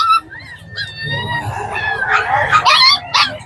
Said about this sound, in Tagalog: Inatakpan natin yung aso, mainit eh.